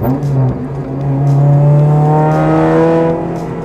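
A Honda Integra Type R DC5 cruises at around 80 km/h, its engine humming loud and close in a steady drone that swells slightly mid-run, with road and wind noise and no talking.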